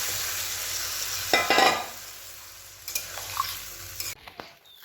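Spice paste frying and being stirred in a pan, a steady sizzle with a burst of scraping stirs midway, then quieter near the end.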